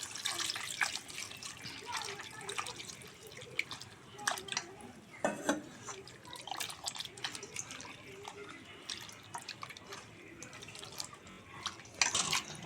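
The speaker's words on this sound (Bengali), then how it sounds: "ময়দাটা কিন্তু আমি এইভাবে ভালো করে ধুয়ে নিচ্ছি।" Flour dough is kneaded and washed in a bowl of water, giving soft, close sloshing, splashes and drips with faint clinks of a utensil, continuous and fairly quiet throughout.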